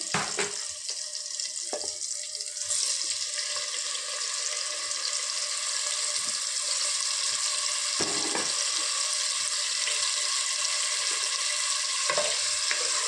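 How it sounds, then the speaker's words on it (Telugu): A half kilo of fresh paneer fries lightly in a pan. Its continuous hiss is broken now and then by short clinks and scrapes of stirring, and nobody speaks. "ఇలా లైట్గా వేయించుకోవాలి"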